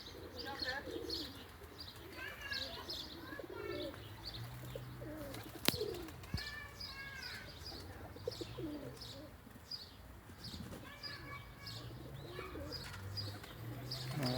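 Pigeons coo repeatedly alongside scattered chirps and tweets, with a soft outdoor ambience and a brief sharp knock midway.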